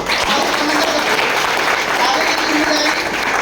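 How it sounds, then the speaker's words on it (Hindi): An audience claps loudly and continuously at a gathering, a dense unbroken wash of hands with crowd noise and possible voices mixed in. "आप लोग जोरदार ताली के बीच में"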